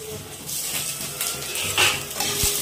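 Crushed ginger and garlic hit hot oil in a pan and sizzle steadily while being stirred, with occasional clinks and scrapes of a utensil against the pan, close by and without talking.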